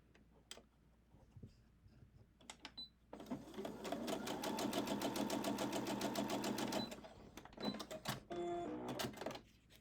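A sewing machine stitches quilt block pieces for a wonky cut star block in a steady loud burst of about four seconds, with quieter handling clicks and a few short stitch runs before and after.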